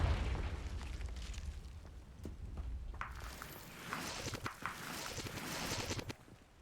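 A Confringo spell explosion in the Hogwarts Legacy video game, a muffled low boom at the start followed by crackling blasts and bursts of impact noise through the middle, moderately loud with no speech.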